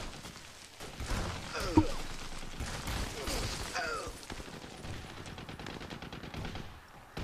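Turret gunfire in the video game Army of Two, Riot Act chapter, rattling in dense continuous bursts with a sharp crack near the start, layered over busy game ambience.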